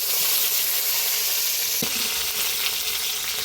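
Turnip and purple yam hit hot tempered oil in a Bengali fish curry, producing a loud, continuous sizzle and crackle with a brief stirring clatter midway.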